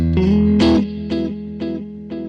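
Electric guitar run through a T-Rex Replica drive pedal model in AmpliTube 5 software: a sustained driven chord followed by four evenly spaced, sharp plucked hits, each ringing with a bright, saturated edge and a steady hum underneath.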